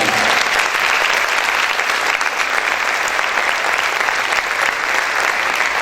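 A church congregation clapping loudly for the Lord, a thick, continuous roar of many hands filling the room at full, steady strength with only faint crowd voices beneath.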